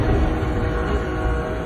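A train rumbles past close by, a loud, steady roar with a heavy low-end drone and no pauses.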